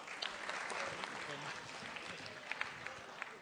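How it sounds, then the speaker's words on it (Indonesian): Studio audience applauding comedian Babe Cabita at a stand-up comedy competition show, a moderate continuous patter of clapping with a few sharper claps standing out, partly under faint talk. "tepuk tangan sekali lagi untuk Babe Cabita"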